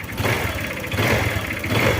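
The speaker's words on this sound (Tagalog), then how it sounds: "So kung mapapansin din natin yung tunog, medyo pantay-pantay na yung belo ng apat na stroke natin." A four-stroke motorcycle engine idles evenly after its idle screw has been adjusted to cure vibration, a close, loud, steady rhythmic chug with regular pulses.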